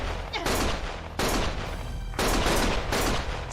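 Heavy, continuous gunshots from the video game Lost Judgment form a loud, crackling barrage that surges in several waves with barely a pause between them.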